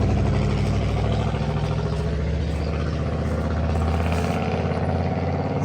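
O scale three-rail model trains run around a large outdoor garden layout, a constant close mechanical hum and rattling clatter of motors and wheels on track, steady throughout with no talking.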